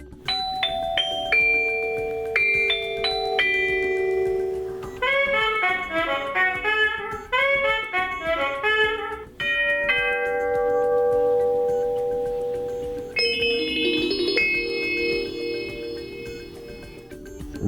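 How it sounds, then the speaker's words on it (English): A Honeywell P2 portable wireless door chime plays several of its chime tunes in turn: clear, bright ding-dong tones and melodic bell sequences ringing out one after another, each followed by a short pause, with no talk. "comes equipped with 4 CD-quality sound chimes with adjustable volume"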